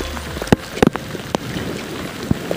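Rain falls on people outdoors near the Mahanadi river in Janjgir-Champa, Chhattisgarh, a steady hiss broken by loud close drops and knocks on nearby surfaces.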